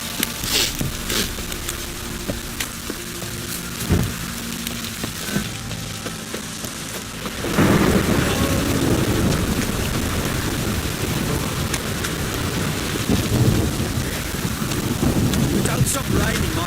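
Steady rain from a thunderstorm in The Witcher 3, lighter at first with scattered drops, then swelling into a loud, dense downpour that holds to the end, with low rumbling underneath.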